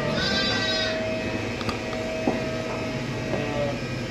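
Sheep in a pen during lambing season in Canada give a clear, close bleat at the start, followed by softer intermittent calls over a steady background hum.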